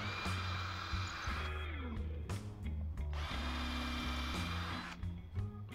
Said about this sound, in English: take your drill bit and drill it all the way through